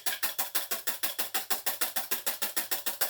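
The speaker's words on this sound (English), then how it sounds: "So you just have to whisk quickly, and you see that the foam is appearing here" A whisk beating quickly to work up foam, a steady fast rhythm of about six crisp, scratchy strokes per second, close and loud with nothing else over it.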